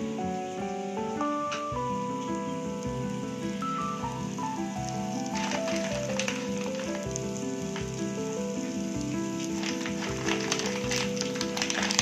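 Dry fruits frying in a pan crackle and sizzle steadily while music plays on top; there is no talk.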